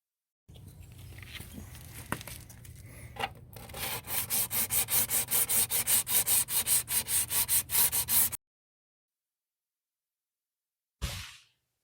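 Close, rhythmic back-and-forth scuffing sands down body filler edges on a Ford Focus rocker panel. A dozen or so even strokes are heard alone, followed by a short pause and one final brief rub.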